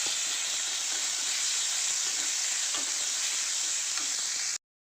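Tomato and ginger paste frying in a pan, a steady close sizzle and hiss running unbroken, with faint stirring scrapes now and then, ending abruptly.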